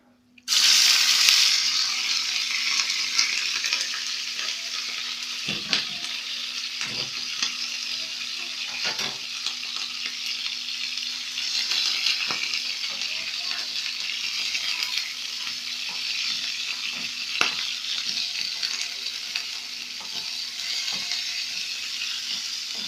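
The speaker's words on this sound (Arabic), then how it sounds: "هنضيف الكبدة بتاعتنا على الزيت وهو سخن كده، وهسمعكم الصدمة بتاعتها" Liver drops into hot oil in a pan and erupts into a loud, steady sizzle that carries on without a break, with occasional soft clicks and stirring knocks under the hiss.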